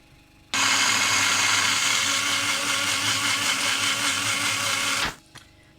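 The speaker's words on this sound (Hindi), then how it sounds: "फिर बाद में मैं इसको ग्राइंड कर लूँगी।" An electric grinder blends onion and yogurt for mutton korma, starting abruptly into a loud, steady whir that runs for several seconds, then cuts off, followed by a brief rattle.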